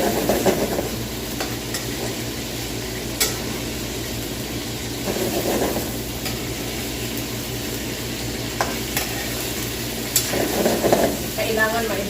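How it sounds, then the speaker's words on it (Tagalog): Meat browning in a pan over a home stove, a steady frying sizzle with intermittent scraping and stirring bursts throughout, fairly close and continuous. "kailangan ma-brown ko po yung karne"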